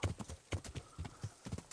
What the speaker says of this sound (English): the horse can go at a really nice speed